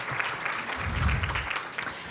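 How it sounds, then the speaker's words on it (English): Brief round of applause from an audience at a city State of the City address, a steady patter of clapping filling a room with a low murmur underneath. "round of applause"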